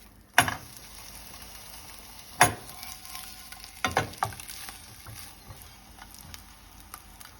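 An egg fries in butter in a pan with a steady, soft sizzle throughout, broken by a few sharp clinks or taps of a utensil against the pan.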